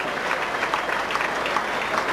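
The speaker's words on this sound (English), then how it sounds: "And Argyle come onto the pitch, again to tremendous applause." Football crowd at Plymouth Argyle's ground applauding as the home side come out for the second half against Manchester City in 1996/97, a dense, steady wash of clapping with no voices standing out.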